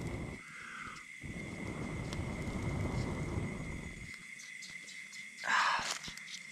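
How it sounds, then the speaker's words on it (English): A small beetle buzzes near a campfire at a solo jungle camp, a fluttering drone that rises and fades over several seconds amid night insect sounds, followed by a brief sharp burst near the end. "It's a little beetle."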